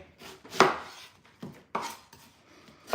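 A knife chopping red onion on a board, several sharp irregular chops with short pauses between them, close and clear with no talking.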